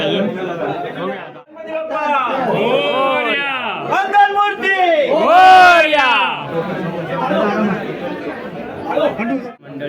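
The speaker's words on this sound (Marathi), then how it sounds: "आता गर्दी तर आहे खूप" A large crowd chatters loudly at a Ganpati arrival festival in Konkan, a dense mix of many voices and some chuckling, close and continuous.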